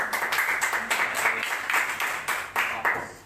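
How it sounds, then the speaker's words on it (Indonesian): Church congregation clapping hands together in a steady, rhythmic beat, a dense group sound with the claps landing in regular pulses throughout. "tepuk tangan, ayo"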